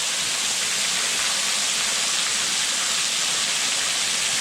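Amos Falls roars close by, a steady dense rush of falling water that fills the whole space without pause, loud and unbroken with no voices.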